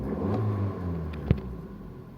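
A car engine at idle with an unstable RPM problem gets a short blip of throttle, a low rumbling idle followed by a brief sharp rev spike that quickly settles back down.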